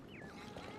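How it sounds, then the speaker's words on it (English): A short bird call from Penacony in the video game Honkai Star Rail: one quick rising and falling whistle-like chirp over a soft, steady ambient background, with no speech. "I hear another bird."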